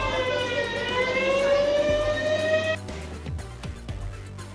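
A civil defense siren for a mock drill in Bengaluru wails loudly in a long rising-and-holding tone, then cuts off, leaving a quieter hum of traffic and low background noise.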